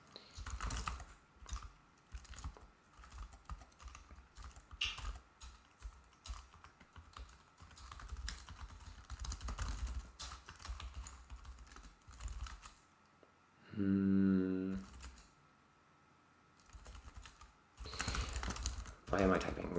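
Someone typing on a computer keyboard while coding an operating system's file system, rapid clattering keystrokes in uneven bursts, with someone talking over parts of it.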